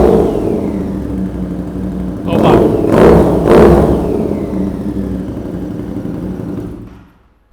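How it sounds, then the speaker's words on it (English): A custom widebody motorcycle engine idles loudly close by, then revs in two quick throttle blips before settling back to idle and cutting off, with a brief voice reacting. "Okay, can we get a little rev?"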